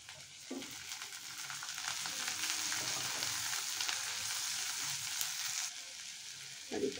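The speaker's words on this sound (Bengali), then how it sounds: "এগুলো এখন ভেজে নেব একটু ব্রাউন করে" Spice paste for chapila fish curry fries steadily in a pan, a continuous hissing sizzle with a few soft stirring scrapes at the start and end.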